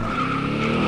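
A car skids with a loud, close, sustained tire squeal that holds steady for under a second, with no voices.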